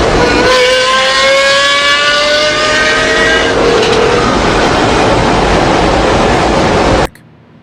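A Pagani Zonda's 6.0-liter V12 roars loud and close, its pitch climbing steadily through the revs before cutting off abruptly near the end.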